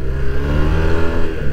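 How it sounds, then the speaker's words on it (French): A Yamaha TMAX 500 scooter with a new exhaust accelerating: a brief, loud, close, throbbing engine drone holds a steady low rumble for about a second and a half. "vous voyez qu'il accélère"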